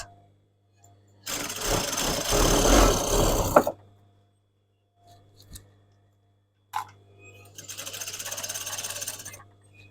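A sewing machine stitches tasseled shorts around the side seams in two loud runs of a few seconds each, separated by near silence with a faint click between.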